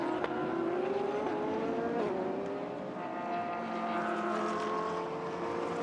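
Mercedes and Lamborghini GT race cars howl around the Sepang circuit in a GT World Challenge Asia race, a loud, continuous engine roar whose pitch climbs and shifts as the cars accelerate and jostle.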